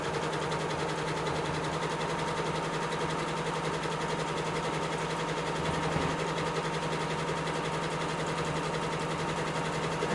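Sewing machine stitching jeans fabric with a normal presser foot while quilting upcycled denim, a steady, close mechanical whirring hum with rapid needle rhythm running continuously and unbroken.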